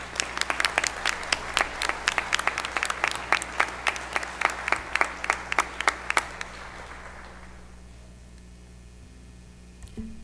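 Graduates at a university commencement ceremony are applauded, a steady run of loud crisp claps up close over a large crowd's softer applause, fading out after about six seconds into quiet room tone with a faint thump at the end.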